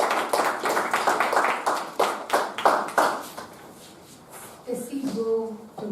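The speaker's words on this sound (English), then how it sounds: "Please give a round of applause." A Toastmasters meeting audience claps for a table topics speaker, a burst of rhythmic hand clapping that fades after a few seconds, followed by a voice beginning to speak.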